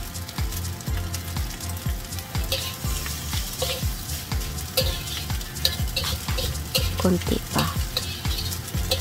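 Light sauce poured around the edge of egg and luncheon meat fried rice in a hot pan sets off loud crackling sizzle, with rhythmic scraping and tossing of the spatula throughout and a few quiet spoken words.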